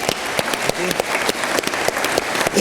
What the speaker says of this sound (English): Big round of applause for Showroom, everybody.